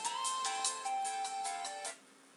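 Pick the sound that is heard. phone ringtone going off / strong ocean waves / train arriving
phone ringtone going off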